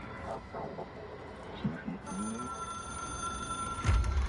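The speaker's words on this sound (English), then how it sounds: "It is a phone. It's an object of power." A phone rings in the video game Control, a bright electronic tone starting midway and holding steady, with game sounds and a brief speaking voice underneath.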